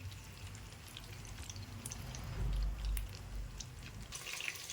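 Besan-stuffed chilies fry in hot oil with a soft, steady sizzle and scattered crackling pops, heard close and fairly quiet.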